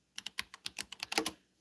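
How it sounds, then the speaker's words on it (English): Quick, light keystrokes on a computer keyboard, about ten crisp taps in an irregular burst that ends in a slightly faster flurry, close and quiet with no talking. "as I'm typing some information in"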